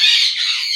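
A pet bird named Dookie lets out one loud, harsh squawk right up close, sharp and raspy, with no one talking over it.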